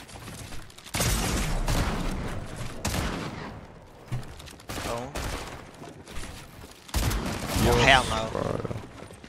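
Bursts of gunfire ring out in a Fortnite 1v1 build fight, with rapid shot volleys in several loud clusters and talk heard between and over them.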